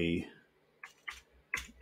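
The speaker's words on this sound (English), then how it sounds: "So bear with my typing, okay?" Keyboard typing in short bursts, a few separate clatters of keys spaced apart after a brief voice at the start, close and fairly quiet in a room.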